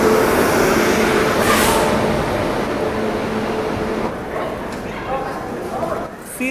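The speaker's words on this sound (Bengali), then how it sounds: "1:39 ট্রেন ঢুকছে 11 নম্বর প্ল্যাটফর্মে, শতাব্দী এক্সপ্রেস" Shatabdi Express passenger train pulling into platform 11 at a busy station, with a loud, steady rumble and clatter that slowly fades as the train slows, followed by a few faint squeals and thumps at the end.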